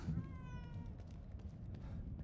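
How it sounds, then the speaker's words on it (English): A cat in the horror video game The Evil Within 2 lets out a half-whiny meow early on, close and clear, over a low background rumble with faint voice-like sounds. "Meow, like that half whiny meow."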